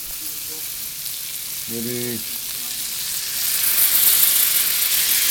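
Garlic sizzles in three to four tablespoons of melted butter in a pan for a Francese sauce. The frying hiss is steady and swells toward the end, and a voice speaks briefly under it.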